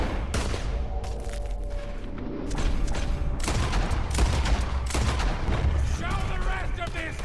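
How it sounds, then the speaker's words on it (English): Gunfire in Red Dead Redemption 2, a rapid fusillade of sharp loud shots and booms in irregular bursts, close and heavy, with faint game voices underneath. "I'm just gonna practice my shooting."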